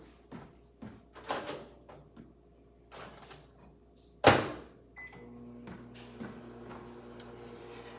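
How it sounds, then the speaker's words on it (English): Clicks and bumps of a door and buttons, then a sharp thud as a microwave door shuts, followed by a steady low hum of the microwave oven running. "I'm gonna get this going in the microwave"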